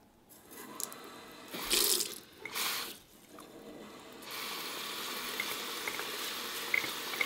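Tap water runs at a sink onto a bath loofah, a steady close splashing hiss that swells in two short bursts and then settles into continuous flow.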